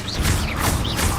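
A Levioso levitation spell is cast in the video game Hogwarts Legacy, a loud, steady magical hum with a few high, gliding tonal sweeps rising and falling over a dense low rumble.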